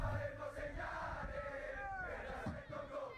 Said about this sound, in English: You can hear the fans.